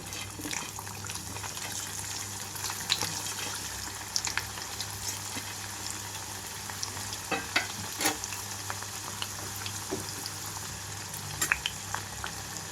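Young bitter gourd pieces with their seeds fry in a pan with a steady, even sizzle, with occasional soft clinks and stirring scrapes close by and no talking.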